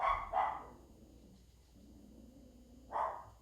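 A dog barks three times, two quick loud barks close together and then a third after a pause, fairly near with little else around.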